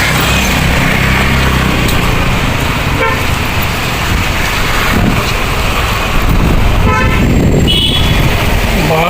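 A bus approaches on a road in light drizzle, its horn tooting loudly a couple of times over a constant rush of engine noise and wind buffeting.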